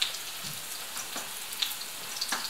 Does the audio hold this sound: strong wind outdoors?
no